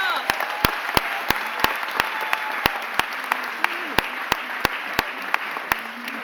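An audience at a mayor's press conference applauds new leadership appointments with sustained clapping. Sharp, close camera shutter clicks cut through the applause at irregular intervals, and a few voices murmur underneath.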